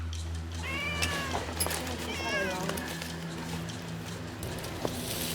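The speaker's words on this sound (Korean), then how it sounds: "어머니 저기 유모차 안에 있는 게 고양이에요?" A cat meows several times, drawn-out wavering cries over a steady background hum, with people talking nearby.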